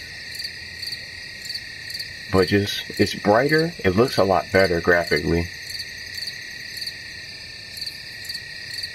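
High, steady cricket chirping fills a night scene in the video game Nebula Realms Ghost Town, a continuous pulsing drone that carries on alone before and after someone talks briefly over it.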